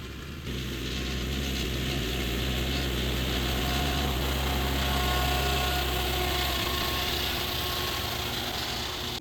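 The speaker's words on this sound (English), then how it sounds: "let me get back on the tractor" Compact tractor engine running steadily while cutting hay with an IBEX drum mower, a continuous loud low drone with mechanical clatter and whirring throughout, no talk.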